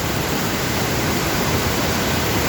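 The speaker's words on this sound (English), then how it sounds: "that was the top view of the waterfall" Waterfall heard from the top, a constant, loud broadband roar of rushing water with no breaks or voices.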